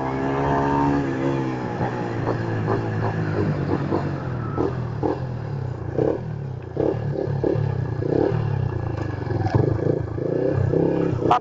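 A Yamaha Fazer 150 motorcycle fitted with a sport exhaust revs loudly and close by, giving a steady harmonic engine drone with repeated throttle blips and clattering bursts.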